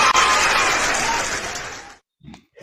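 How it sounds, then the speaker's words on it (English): An audience claps loudly and steadily for about two seconds, then the applause cuts off abruptly and a brief voice follows. "Make I clap for you"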